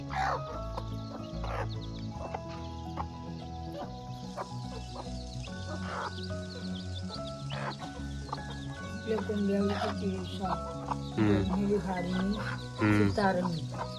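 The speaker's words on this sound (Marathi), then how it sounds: "भुसा खायची कोंबड्यांची मजा झाली." Chickens cluck and squawk while feeding on husk outdoors, short irregular calls over a steady busy background with people talking nearby.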